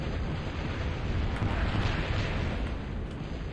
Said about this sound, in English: You can see X is using artillery.